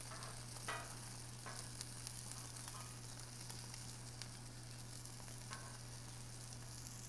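Quiet steady sizzling of French toast frying in a pan, with occasional soft pops and scrapes, continuous and close, no talking.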